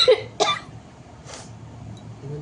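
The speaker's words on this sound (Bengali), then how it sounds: "কাশি হয়েছে" Two sharp coughs come early, close to the mic, with a softer throat sound around the middle, spoken by a person suffering a cough in a hot room without air conditioning.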